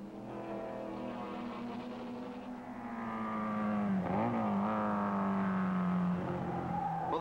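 Sports racing cars lapping the Mosport circuit scream past with a loud, sustained engine note that sags, then surges higher as one car closes in and passes nearby.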